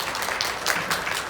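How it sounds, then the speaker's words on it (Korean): Applause from an audience at a keynote session of a tech launch event, greeting a research lab director taking the stage; a steady, dense wash of clapping at moderate level throughout. "큰 박수 부탁드리겠습니다"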